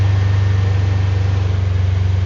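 Steady low hum of heater fans running inside a Polaris 900 XP side-by-side fitted with a Firestorm heater, a constant drone with no talk.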